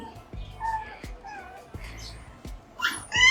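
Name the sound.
chihuahua puppies whimpering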